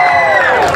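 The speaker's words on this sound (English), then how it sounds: "I want the corresponding crowd to make as much noise as you possibly can" Fair spectators cheer and shout for racing pigs at the Salem Fair in Virginia, a loud, dense burst of crowd noise with whoops and children's voices throughout.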